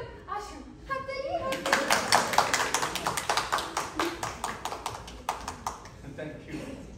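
An audience at a book event claps to welcome the barrister guest onstage, after a brief voice at the start. The clapping is dense and steady for several seconds, then thins out.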